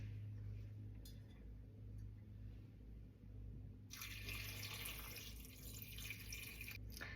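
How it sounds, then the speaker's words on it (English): Quiet dripping at first, then a steady stream of water pours into a pot of beef fat for rendering tallow, running continuously for several seconds. "We then want to add our water to the pot and just cover the fat."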